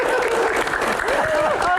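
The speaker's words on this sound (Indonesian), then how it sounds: "Baik, tepuk tangan." Audience applause breaks out at a live Islamic Q&A session with a preacher, a dense, steady wash of clapping lasting under two seconds, with voices calling out and talking over it.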